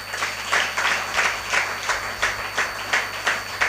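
A church congregation at a Sunday service claps in unison, a loud, steady rhythm of about seven sharp crowd claps in a row, with no talking over it.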